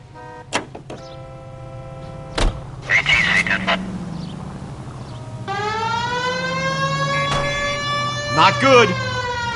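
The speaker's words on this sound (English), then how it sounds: "We have a siren." Police car siren in the L.A. Noire video game, a loud rising and falling wail that starts and stops, then holds steady, over game engine noise and short clicks, with a voice speaking briefly.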